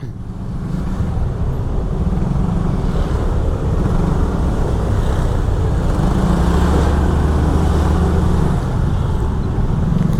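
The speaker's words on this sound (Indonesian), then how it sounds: "Ini salah satu jalan yang cukup ramai, sering macet di sini." Heavy, congested road traffic in Canggu, Bali rumbles continuously nearby, a dense blend of car and motorbike engines with passing vehicles swelling and fading, no voices.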